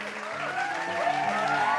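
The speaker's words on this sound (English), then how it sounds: "What if they started applauding?" Short burst of applause, a brief crowd clapping sound effect at moderate volume, with faint background tones underneath.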